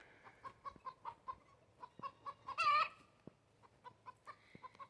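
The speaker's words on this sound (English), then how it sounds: "I hear the song of a chicken that just laid an egg where they're not supposed to be laying eggs" A hen in a chicken coop clucks in a rapid, rhythmic series after laying an egg, with one louder squawk near the middle, heard close and alone.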